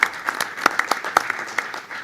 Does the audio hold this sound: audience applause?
yes